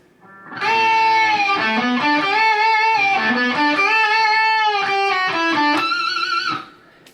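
An electric guitar plays a bending, sustained lead melody from section 3 of the solo, loud and close for about six seconds with no talking.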